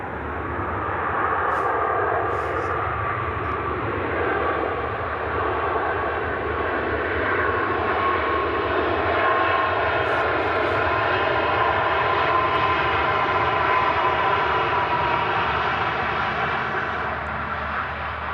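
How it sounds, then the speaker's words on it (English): A Ryanair Boeing 737 Max comes in to land, its engines making a loud, continuous roar and whine that holds steady throughout, with a few faint clicks over it. "there's a Ryanair Max coming in next."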